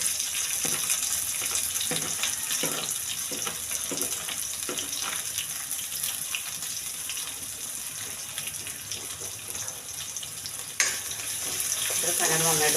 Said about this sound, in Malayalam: ഇത്ര സാധനങ്ങൾ നന്നായിട്ടൊന്ന് മുരിഞ്ഞോട്ടെ